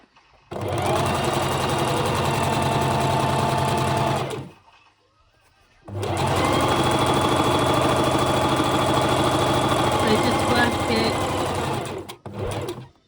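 Electric sewing machine stitching a washable fabric face mask seam with a 2.5 to 3 mm stitch length, running in a steady loud whir for about four seconds, pausing briefly, then running again in a longer close-up burst.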